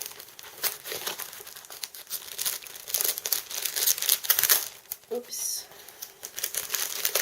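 Thin kraft paper handled for a Christmas craft project, with close, irregular crinkling and rustling bursts throughout and one brief spoken exclamation partway through.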